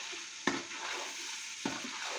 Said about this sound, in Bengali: মাংসটা কিরকম কষা হচ্ছে আগে দেখো